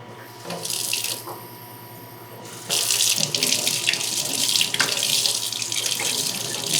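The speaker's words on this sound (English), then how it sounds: "Fill it up with water, and then I'm going to rinse the roots out here." A running tap splashes water while rinsing a glass and the roots of coleus cuttings, loud and close, with a pause in the flow before it surges again, steady and full.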